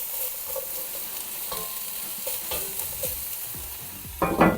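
Vegetables cooking in a pot for vegan not-chicken noodle soup, a soft continuous sizzle with scattered light scrapes and clinks, then a louder stirring clatter at the end.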